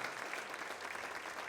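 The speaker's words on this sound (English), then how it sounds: "big round of applause for the special effects department that we hired" Audience applause at a stand-up comedy special taping, a brief, steady patter of clapping heard from a distance and fairly faint, with no voices over it.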